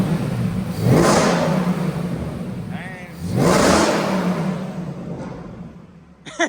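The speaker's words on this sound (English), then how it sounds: "Let's rev it up a little bit." A modified 2014 Ford Mustang GT in neutral revs twice, each burst swelling into a deep, loud roar and settling back to a rumbling idle, close to the listener.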